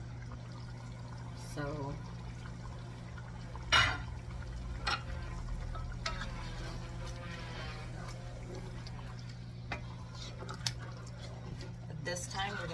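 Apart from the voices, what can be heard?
pouring water into pot of rice and chicken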